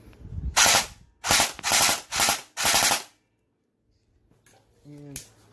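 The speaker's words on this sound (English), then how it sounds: "This is gonna be full auto. I'm gonna do a short burst because I do not want to destroy my gearbox" Cyma M16A3 airsoft rifle, a Cyma clone, firing short full-auto bursts: four loud rapid rattling bursts close to the mic, then quiet with a faint voice at the end.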